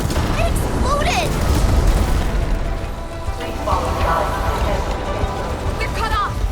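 A rumbling explosion in the game Arknights: Endfield, a sustained, loud burst of noisy roar mixed with characters' voices and scattered debris sounds.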